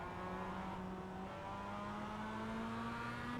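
A race car engine drones steadily in the iRacing sim during an AI race, a continuous rising whine with gear-like pitch lines, moderately loud and alone, with a faint hint of tire squeal.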